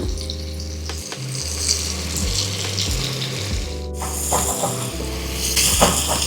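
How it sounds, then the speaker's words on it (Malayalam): Onions sizzle in hot oil for a Kerala curry, a dense, loud hiss that holds steady throughout with small crackles, up close and with no talk. "കറിക്ക് വേണ്ടിയിട്ടുള്ള അതേ എണ്ണയിലേക്ക് സവാള ഇടുവാണ്"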